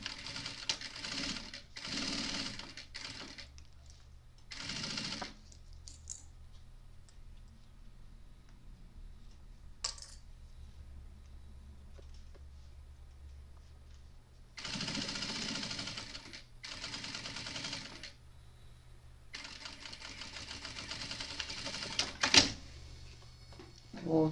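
A sewing machine stitches a seam on a tote bag in several separate bursts of rapid, steady running, each lasting a second or more and separated by quiet pauses, close and moderately loud.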